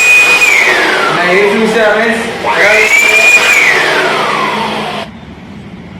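An electric air blower and vacuum machine runs loudly with a whining motor tone that rises and falls in pitch, then stops abruptly, leaving faint background noise; someone speaks briefly over it.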